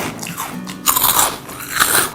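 Air-fried Saeukkang shrimp crackers are bitten up close: a few loud, crisp crunches and crackles with brief chewing between them, and no voices.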